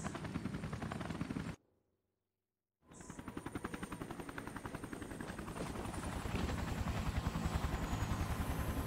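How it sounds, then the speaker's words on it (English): A helicopter flies off in the video game Resident Evil Revelations: a loud rhythmic rotor chop cuts out briefly into silence, then returns and grows steadily louder. "I saw the helicopter fly off."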